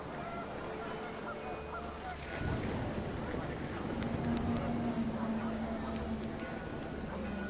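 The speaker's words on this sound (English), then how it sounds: "The wind picked up, and panicked geese appeared and quickly went." Panicked geese honk in the video game What Remains of Edith Finch amid wind and rain, with scattered honks heard over a steady rushing background that swells partway through.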